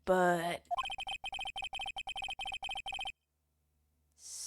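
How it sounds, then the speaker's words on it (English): A newfangled-style phone ringtone from the Phoenix Wright: Ace Attorney game plays as a fast, evenly pulsed run of about a dozen bright beeping bursts. A voice speaks briefly just before it, and the ringing then stops abruptly into silence. "I heard a phone ring just now, one of them newfangled ringtones."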